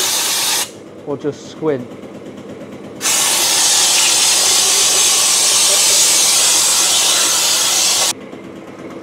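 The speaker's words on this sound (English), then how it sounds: "Shut the pre-war compressor off" A loud, steady rush of air hisses from an old pre-war compressor for several seconds and then stops abruptly, after a brief spoken remark at the start.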